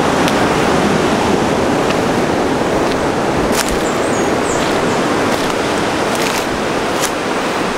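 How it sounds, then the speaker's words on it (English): Ocean surf breaking along a rugged rocky coastline in Dahican, Mati, Mindanao, Philippines: a loud, continuous roar of waves mixed with wind buffeting the microphone. "vast, beautiful ocean."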